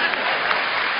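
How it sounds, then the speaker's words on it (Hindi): Steady, dense audience applause at a comic Hindi poetry show, a continuous loud wash of clapping with no voices on top. "इधर से तालियां कम बज रही हैं"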